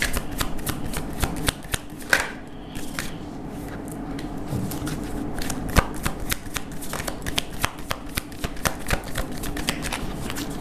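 Tarot cards are shuffled by hand in a quick, continuous run of soft riffling and flicking snaps, close and fairly faint, with no talk over them.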